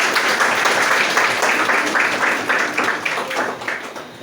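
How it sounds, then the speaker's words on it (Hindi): A room of coaching-class students applauds their teacher, dense steady clapping that fills the space, loud and continuous before slowly thinning toward the end. "बहुत बहुत धन्यवाद सर के लिए ताली बजाएगा"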